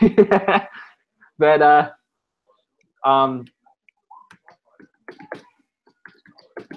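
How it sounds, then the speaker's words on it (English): Someone types on a computer keyboard, producing sparse, faint clicks in short irregular runs after a few bursts of voices. "I'm just typing something"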